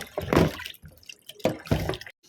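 Water running and splashing while beef ribs are rinsed in a kitchen, two bursts of close, loud splashing separated by a short pause.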